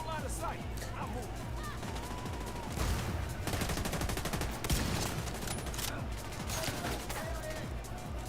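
Enemy gunfire tears through cover in The Division 2, rapid automatic bursts and cracking shots with heavier volleys near the three- and five-second marks, loud and sustained, with a voice speaking briefly over the shooting.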